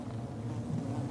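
Honey bees buzzing in a steady, low drone that holds evenly throughout, with no voices.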